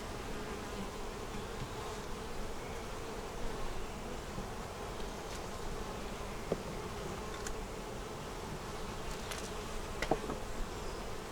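A steady, dense buzzing of many honey bees close by at a hive frame, continuous throughout with slight swells in intensity.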